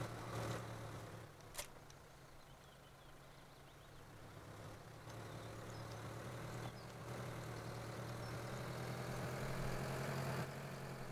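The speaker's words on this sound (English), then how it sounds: "These 4 tractors are pretty loud." Low, steady rumble of four tractor engines idling and running together in Farming Simulator 2013, fairly faint, with a slight rise in intensity toward the end.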